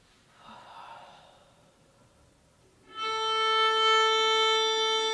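A violinist breathes out fully during a warm-up: a soft, breathy exhale, then a sustained, bright violin note starts loudly and holds steady to the end.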